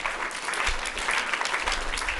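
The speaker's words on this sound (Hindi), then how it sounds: "ताली बजाइए भाई" Audience applause at a gurukul gathering, a burst of steady close clapping from a crowd lasting a couple of seconds, fairly loud.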